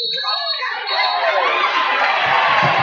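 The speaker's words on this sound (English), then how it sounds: "The crowd is loving it" Crowd cheering at a girls' high school basketball game, a loud sustained roar of shouts and whoops that rises and stays full, with a voice talking over it.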